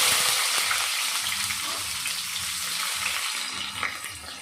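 Onions and mustard seeds frying in hot oil with a little moisture, giving a steady, dense sizzle and hiss that stays fairly loud and close, with faint low clatter underneath and no talking.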